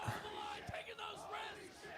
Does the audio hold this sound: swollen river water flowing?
no